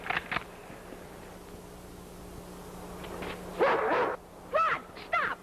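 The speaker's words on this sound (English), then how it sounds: "It's not a wolf, it's a dog!" A dog barks in a 1941 film adaptation of a Jack London story, a few separate bark bursts in the second half after faint earlier yips, set against a quiet outdoor background with no speech.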